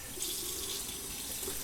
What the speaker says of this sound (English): So I'm going to grab some cold water.